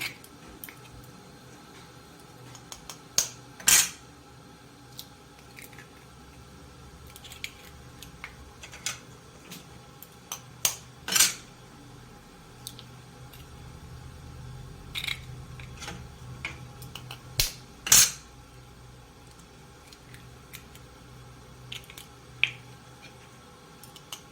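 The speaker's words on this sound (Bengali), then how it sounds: "এবার আমি, হ্যাঁ বলো, ডিমগুলো ভালোভাবে আস্তে আস্তে ফাটিয়ে নেব" Eggs are cracked gently one at a time in a home kitchen, giving several sharp, sparse cracks and taps spread over a quiet background. No talk is heard.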